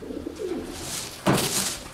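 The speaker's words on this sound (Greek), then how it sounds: "Από αυτά τα περιστέρια έχει φάει 26 οσάινας καταμετρημένα" Pigeons in a loft coo in low, rolling calls close by, with a sudden brief rustling burst about halfway through.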